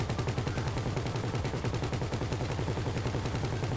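Continuous rapid automatic gunfire in a GTA Online heist, loud and relentless rattling without a break.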